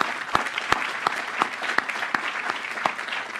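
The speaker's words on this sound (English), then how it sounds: "I think he deserves an applause for that" Applause from an audience at an Opportunity Zones announcement event, a steady wash of clapping with a few sharp, louder nearby claps standing out, moderately quiet and without speech.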